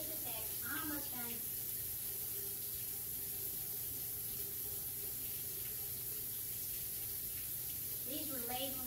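Tap water runs in a steady hissing stream while muddy eggs are washed under it, close and continuous, with a person speaking briefly at the start and end.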